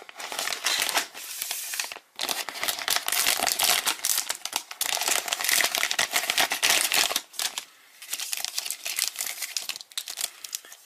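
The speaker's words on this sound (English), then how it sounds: "I got another two of these Dollarama surprise bag hockey card openings" Dollarama surprise bags of hockey cards being torn open and handled, a close, continuous burst of crinkling and ripping wrapper noise with a few brief pauses.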